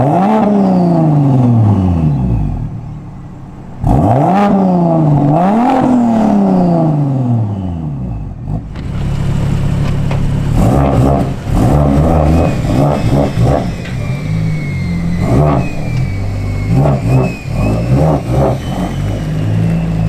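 A car engine revs hard several times, the pitch sweeping up and falling back, then settles into a loud, rough, rumbling idle with occasional blips of throttle, close by.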